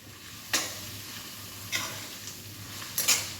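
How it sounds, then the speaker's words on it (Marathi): Ground spice paste (vatan) frying in a pan for sabudana khichdi, a quiet steady sizzle broken by a few soft stirring scrapes, with no voices. "वाटण घालायचं आहे छान फ्राय करायचं हे"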